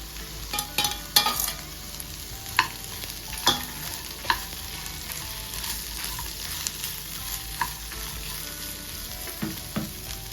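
Dry ingredients for village-style chicken sambar being roasted and stirred in a pan: a soft, steady sizzle with scattered scraping clicks of the spoon, close and without talk.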